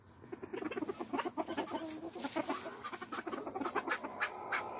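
Six roosters and two hens in a coop cluck and murmur in a busy, rhythmic series of short calls, fairly close and soft, with no talking.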